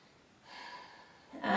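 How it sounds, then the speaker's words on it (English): A person taking slow, deep breaths while resting between Pilates moves on all fours, with a soft drawn inhale followed by a fuller, louder exhale close to the microphone. "2 deep breaths"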